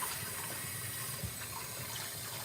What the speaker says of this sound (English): Put a little water in,